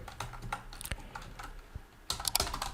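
Typing on a computer keyboard in a quiet room, a loose run of light key clicks that speeds into a denser burst of taps near the end, close and fairly soft.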